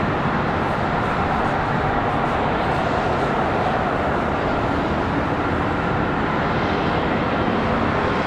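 An airliner painted in Stand Up to Cancer livery rumbles past as a dense, steady jet roar that fills the whole stretch at moderate distance.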